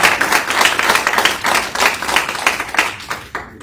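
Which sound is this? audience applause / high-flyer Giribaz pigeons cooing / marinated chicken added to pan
audience applause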